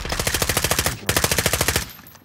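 Automatic gunfire in the video game Call of Duty Modern Warfare, two rapid bursts of evenly spaced shots at close range, loud, with a brief pause between them.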